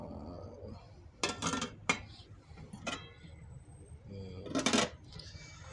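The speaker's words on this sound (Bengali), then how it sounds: "এই সব আমার রান্নার সরঞ্জাম।" Cooking utensils handled in a home kitchen, a few sharp metallic clinks and clatters in short bursts separated by quiet gaps, close and fairly soft.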